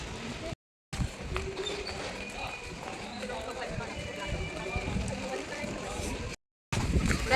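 People running through heavy rain outdoors in Haridwar, with a dense continuous hiss of downpour and splashing, brief cut-outs, and voices talking under the noise.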